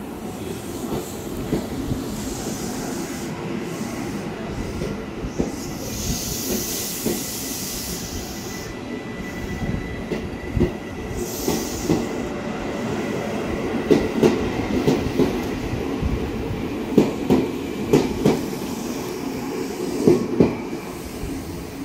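A Japanese-built 7000 series KRL electric commuter train rolls slowly into the Depok depot in Indonesia, a steady rumble with hissing brakes and rhythmic clickety-clack of wheels over rail joints, growing more pronounced in the latter half.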